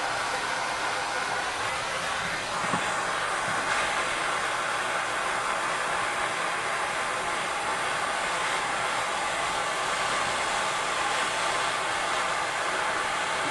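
A blowtorch's light blue flame heats a shower valve for soldering, giving a steady, loud, unbroken roar of rushing gas with no pauses throughout.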